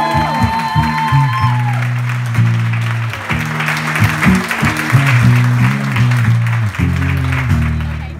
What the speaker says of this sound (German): Applaus bitte nochmal an euch.